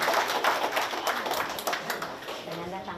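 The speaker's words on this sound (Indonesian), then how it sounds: "Kita berikan tepuk tangan yang meriah" An audience claps at a ceremony handing over an ambulance to the village of Nagari Kubang, a dense, fairly close rattle of many hands that stays steady and then thins slightly toward the end, with voices underneath.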